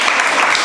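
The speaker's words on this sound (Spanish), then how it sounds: "a ver cómo te aplaude" Loud, close crowd applause at a Valencian fallas celebration, a thick continuous roar of clapping over a short span with no other sounds standing out.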